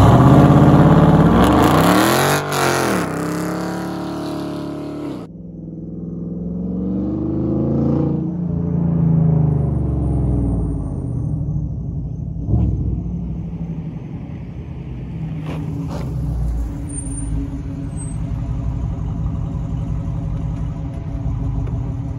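A Dodge Charger R/T 5.7 V8 fitted with long tube headers launches, its engine roaring loudly up through the revs and then settling into a steady, rumbling pull, with no talk over it.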